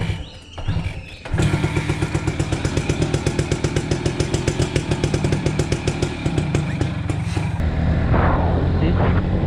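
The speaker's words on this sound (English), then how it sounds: "I'm starting my ride with a 100cc bike." An old 100cc motorcycle engine starts up and then runs steadily, with a close, loud, rapid single-cylinder pulse that carries on through the ride. A voice speaks briefly near the start.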